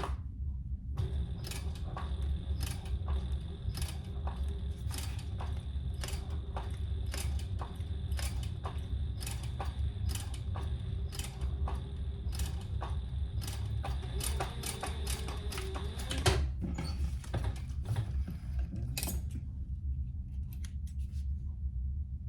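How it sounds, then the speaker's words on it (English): Sewing machine stitching across the folded edge of a sling strap, a steady mechanical hum punctuated by rapid regular needle clicks, running for about sixteen seconds and then slowing to a few scattered taps. "we're going to stitch across that edge"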